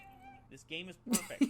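A cat in a story-driven adventure video game gives a couple of short, close meows at the press of a dedicated meow button, while a person speaks briefly just before.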